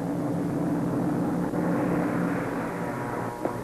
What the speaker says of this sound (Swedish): Ett flygplan. Precis vad vi behöver.